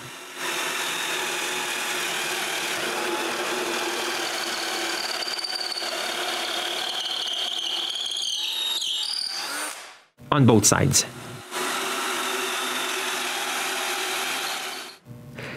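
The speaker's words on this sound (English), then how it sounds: "Now I need to drill a locking pin hole." A power drill bores locking pin holes into wooden balls with glued dowels for a flipping tool cart, a long steady whine running about ten seconds, then a short sharp burst and another sustained run, with a brief spoken remark.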